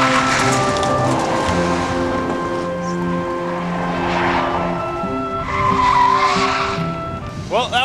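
A Toyota Prius races around an autocross course, tires squealing and skidding in drawn-out tonal screeches with a steady engine drone beneath, loud and close, and a voice talks over it.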